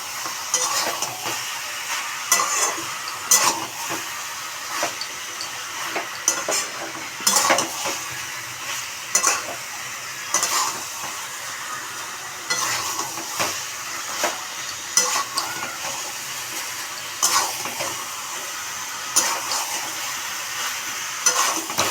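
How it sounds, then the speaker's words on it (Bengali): Mutton curry fries in a pan while a spoon stirs it repeatedly, giving an ongoing sizzle broken by regular scraping and clanking strokes against the metal, close and steady, with no talk. "যত নাড়বে খাসির মাংস তত টেস্ট হবে। কষানোতেই সেন্ট আসবে।"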